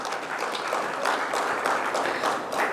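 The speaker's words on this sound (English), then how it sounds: "Can we have a big round of applause for Ms." Conference audience clapping for an introduced keynote speaker, a full, sustained round of applause with individual claps standing out.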